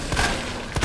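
Grenade launcher fire in Resident Evil 2 Remake, two heavy booming shots about half a second apart, loud and close over a dense noisy background.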